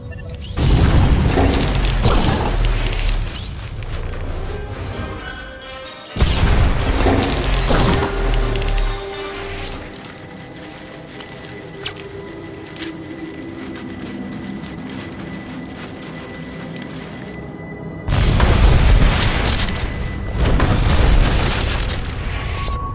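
Heavy explosions boom and crash as Republic guns are destroyed in a battle on Ilum in Star Wars: The Old Republic, loud rumbling blasts in clusters with a quieter rumbling stretch between them.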